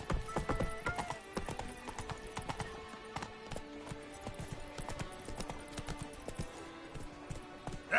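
Roach, Geralt's horse in The Witcher 3, gallops with rapid, rhythmic hoof clip-clops, fairly quiet and steady throughout, with a brief whinny and faint game ambience but no talking.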